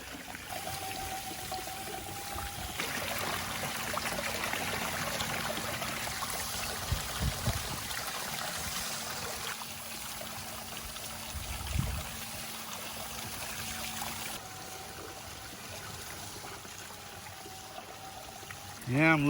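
Water running steadily through a small red gold-prospecting trommel, a continuous pouring and splashing stream with a faint mechanical hum beneath it and a brief louder surge near the end.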